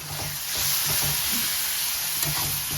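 Ingredients are stirred in a hot pan and fried until reddish, with a continuous loud sizzle and the scrape of stirring running through and no voices.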